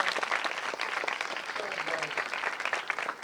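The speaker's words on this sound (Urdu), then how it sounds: "بس بھائی کے لیے زوردار تالیاں" An audience at a church sermon gives a burst of enthusiastic applause, dense overlapping claps that carry on steadily throughout, with some crowd noise mixed in.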